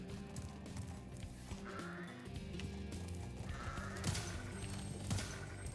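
A goat in the Spyro Reignited video game (Spyro 2: Ripto's Rage) gives a couple of wavering bleats over a steady bed of game music and ambience, moderately loud and without talk.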